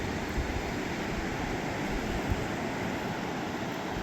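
Steady broadband roar of ocean surf on the Oregon coast, heard from a beach walk right beside the water, continuous and fairly loud with wind mixed in and no voices.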